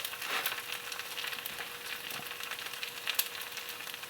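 Scrapple browns in a pan with a soft, steady sizzle and scattered small crackles and pops, faint and close, with no voices.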